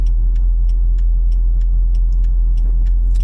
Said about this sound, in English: But this car is just fun to drive